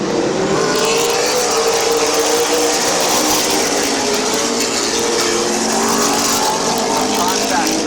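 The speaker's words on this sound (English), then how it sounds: "Cars rolled through turns 1 and 2." Race cars drive through turns 1 and 2 at Midvale Speedway, a loud, continuous, near engine roar with rising and falling revs that fills the whole stretch.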